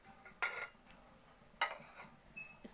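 A metal lid set down over a pot of freshly ground masala in a home kitchen, two quiet clinking clatters of metal cookware in an otherwise hushed room.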